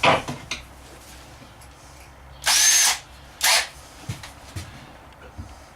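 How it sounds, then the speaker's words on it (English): Two short bursts of a power drill whirring as it pre-drills wood for a travel trailer wardrobe cabinet, each about half a second, with light clicks and handling noises around them. "So first thing I'm going to do is pre-drill."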